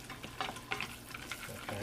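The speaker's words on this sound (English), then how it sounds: "we're going to take these onions, and we're going to also add them to the pot" Onions fry and sizzle in a pot until golden brown and crispy, with a steady crackling sizzle broken by repeated scraping stirs, close up and with no talking.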